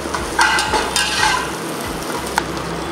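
Shallots frying in a pan for mutton sukka, a steady sizzle with occasional stirring scrapes and light clinks, close and continuous.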